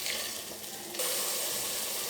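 Cut boiled eggs frying in a pan with spices for egg biryani, giving a steady broadband sizzle that grows louder and brighter partway through.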